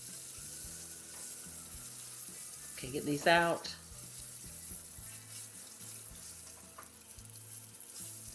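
Quail deep frying in hot oil, a steady sizzle and bubbling throughout, with a brief louder burst of splashing and spattering oil midway; a voice speaks briefly over it.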